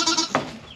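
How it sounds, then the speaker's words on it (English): Pygmy Kiko cross baby goats give a short, close, high bleat, a brief bright cry that fades quickly. "Baby goats are the cutest, guys."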